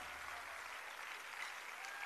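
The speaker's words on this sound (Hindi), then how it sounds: "जोरदार तालियां" Steady, dense applause from a large crowd at a World Disability Day event with Chief Minister Yogi Adityanath, sustained and even throughout with no pauses.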